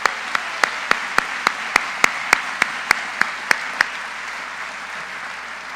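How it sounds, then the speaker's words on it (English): About a dozen sharp, evenly spaced claps ring out in a steady rhythm, then stop, leaving a quiet room hum. "let's give them a round of applause"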